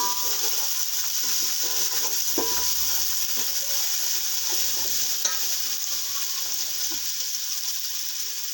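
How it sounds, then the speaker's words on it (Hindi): Salt, red chili powder and turmeric frying in oil, a soft steady sizzle under occasional light stirring scrapes, fairly quiet and close, with no talking. "थोड़ा सा भूनेंगे इसको हम"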